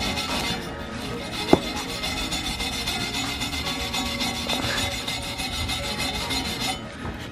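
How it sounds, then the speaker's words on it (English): Steel brush scraping leftover silicone off a three-piece wheel, a continuous close rasping scrub with one sharp knock partway through. "putting in work with the steel brush, getting all that little excess silicone"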